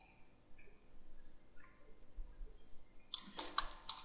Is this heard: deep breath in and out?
no